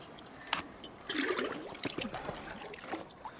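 A small stream in the Russian taiga bubbles and gurgles with an irregular, faint trickle. Brief splashy bursts rise out of the quiet flow.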